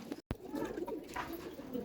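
Soft, low cooing of pigeons murmurs repeatedly at close range over a faint background hum.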